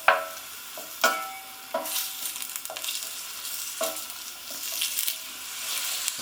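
Roughly chopped onions tossed into hot oil in a pan over high heat, a crackling sizzle with repeated sharp clinks and scrapes of stirring, fairly close and without talk.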